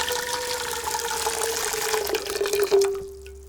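Water from a tap runs steadily into a large pasta pan for a pasta dish, a continuous loud splashing pour whose pitch rises as the pan fills, then the flow cuts off near the end.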